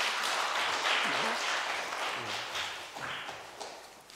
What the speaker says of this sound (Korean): 그만 우리 특별 출연한 사은이한테 박수 한번 쳐주세요